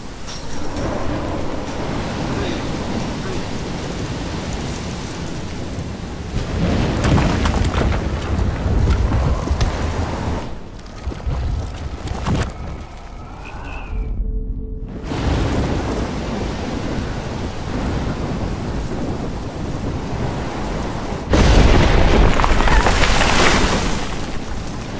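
Thunderstorm in the Oregon setting of the game Life Is Strange, with a heavy, constant roar of rain and wind, rumbling bursts of thunder and a loud crack near the end.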